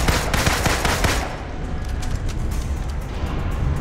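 Black Widow fires her guns in rapid bursts during combat in the video game Marvel's Avengers, loud and dense at first, then a steadier clatter of shots under game noise.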